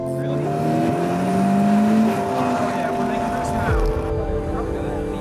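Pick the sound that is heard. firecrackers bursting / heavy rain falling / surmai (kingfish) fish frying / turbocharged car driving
turbocharged car driving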